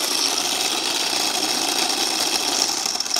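A small electric motor in a Science Olympiad battery buggy runs steadily, giving a continuous high-pitched whine and buzz for the whole stretch with no pauses.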